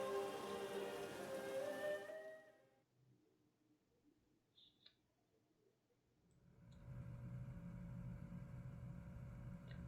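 Steady rain falls in the video game Deluge, a broad hiss that fades to near silence midway, with a few faint ticks, then returns as a fuller wash with a low rumble underneath.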